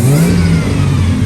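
Tuned Nissan Patrol engine revving hard up close, a loud sustained roar that rises and holds steady, with no talking.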